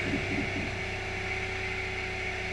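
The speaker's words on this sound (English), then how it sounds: "This pump is significantly louder." A suspension pump on a Mercedes E320 W211 runs loudly with a steady electric hum and whine, constant and close, with a brief buzzy pulsing near the start.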